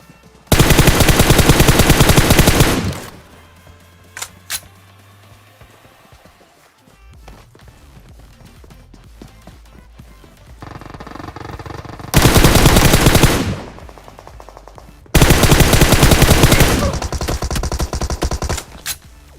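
Bursts of rapid automatic gunfire in PUBG, loud and close, with quieter game ambience and footsteps between the volleys.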